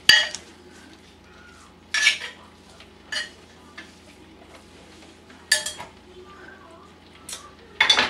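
A utensil stirs ground meat, bell peppers and onions together in a dish, producing a handful of distinct scraping clinks spaced a second or two apart, close and clear, with quiet between them.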